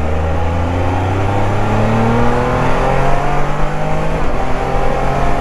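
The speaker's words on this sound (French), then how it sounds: "J'avais oublié comment c'était bon, les accélérations sur ces Can-Am." A 2020 Can-Am Spyder RT three-wheel motorcycle accelerating, its engine note climbing steadily through gears with rising pitch, loud and close, with no voices.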